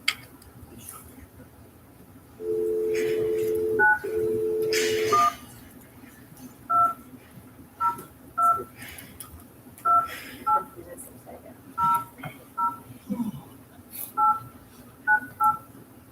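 Touch-tone telephone dialing: two long dial tones, then a steady run of short button beeps evenly spaced, close and clear over faint room noise and murmuring.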